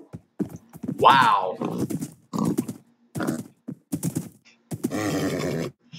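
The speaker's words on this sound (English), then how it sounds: "How good is this horse?" In a video game, a horse snorts and whinnies in short bursts with light hoof clip-clops between them. A voice briefly exclaims over it.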